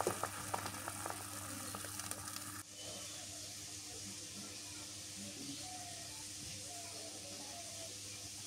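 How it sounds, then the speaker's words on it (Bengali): Dried fish, green chili and onion boiling in a pot give a steady hiss and faint bubbling sizzle, louder at first then settling into an even simmer, with no talking. "শুটকি, কাঁচামরিচ, পেঁয়াজ এগুলো সিদ্ধ করে নিলাম"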